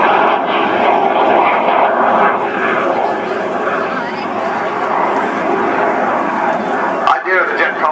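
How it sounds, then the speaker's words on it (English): A Jet Provost basic trainer jet roars past at an air show, a steady loud broadband engine drone that holds for several seconds before cutting off sharply near the end. "here comes John Wheaty in the jet provost, rudely known as the constant power variable noise machine"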